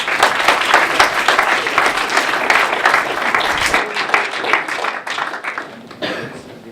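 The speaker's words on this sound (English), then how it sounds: "let's give a round of applause to the dragons" Audience applause at a student competition event, loud dense clapping close by that thins out and fades over the last couple of seconds.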